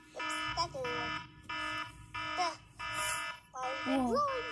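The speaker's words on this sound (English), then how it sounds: "Oh, this alarm clock is annoying." An alarm clock rings in steady repeated electronic beeps, about six evenly spaced bursts, loud and close, with a voice speaking over the last part.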